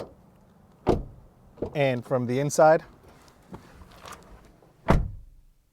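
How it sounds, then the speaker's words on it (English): A 2022 Toyota Corolla Cross door opens and closes with two solid, close thuds several seconds apart. A person speaks briefly between them. "Door open and close sound from the outside"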